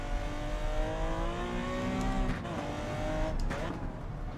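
Race car engine in Gran Turismo 7 on a wet track, revving steadily with rising and falling pitch, then blipping through a downshift to second gear around a chicane, with a brief tire squeal, loud and continuous throughout.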